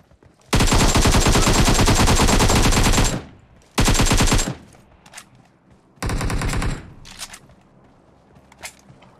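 Automatic gunfire in the video game PUBG Mobile rattles out in three loud, rapid bursts, a long one followed by two shorter ones, then fainter scattered shots.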